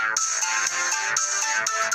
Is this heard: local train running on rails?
no